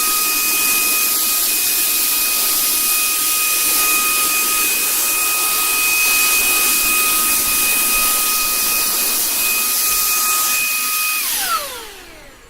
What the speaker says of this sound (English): And I'm vacuuming up the floor a little bit.